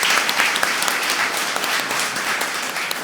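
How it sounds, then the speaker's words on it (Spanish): An audience gives sustained, dense applause at a talk in a hall, a steady wash of many hands clapping at even loudness throughout. "Señores, un aplauso para Mary Lady que la acabo de ver."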